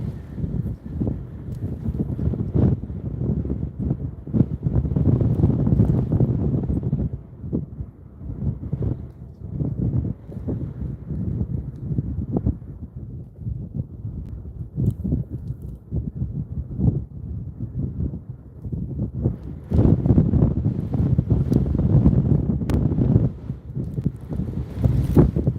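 Strong wind buffets a microphone outdoors by a boat, a loud, continuous low rumble with gusty swells that rise and ease throughout, the heaviest stretches near the start and toward the end.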